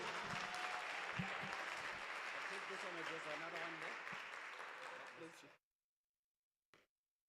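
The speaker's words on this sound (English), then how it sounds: "Give him a loud round of applause." Audience at a youth weekend event in the Northern Cape gives a loud, sustained round of applause with a few cheers, fading slightly before stopping abruptly.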